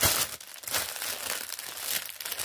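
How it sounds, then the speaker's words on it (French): Plastic packaging crinkles and crackles continuously during an unboxing of cross-stitch supplies. The sound is close, brisk and dense, with no speech. "on va éviter de faire trop de bruit avec le plastique"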